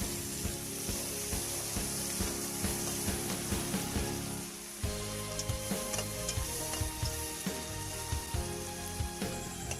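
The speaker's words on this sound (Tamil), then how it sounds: "தக்காளி, வெள்ளைப்பூண்டு, வெங்காயம் எல்லாமே நல்லா வதங்கிருச்சு." Tomatoes, garlic and onion with rock salt sauté in a pan with a dense, continuous sizzle. Frequent scrapes and clinks of stirring run throughout, and nobody speaks.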